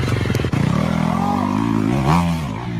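A motorcycle engine revs loud and close, a rapid pulsing putter climbing and falling in pitch with a brief clatter near the start.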